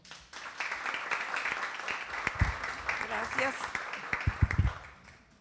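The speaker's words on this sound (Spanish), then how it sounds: "Este aplauso es para ella," Audience applause for an author at a literary presentation by a writers' society and a university in Villa María, Córdoba, a moderate clapping wash under which someone says a brief word of thanks near the end.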